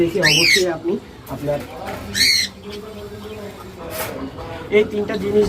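Pet cockatiels give several short, shrill squawks and chirps in bursts, close by, interleaved with a person talking steadily over them indoors.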